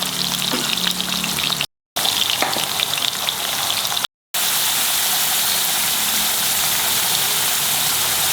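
Chicken cafreal fries in a pan with a loud, steady hissing sizzle, close and continuous, broken by two brief cuts of silence.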